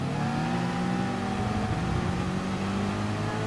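GT3 race cars, a McLaren and an Audi, racing at Spa in a racing game: steady, loud engine drone with layered rising and falling tones as the cars accelerate through the corners.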